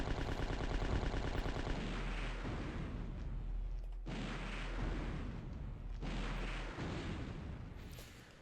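Heavy booming blasts from items being blown up in a survival horror video game, in several long, rumbling waves that follow one another closely.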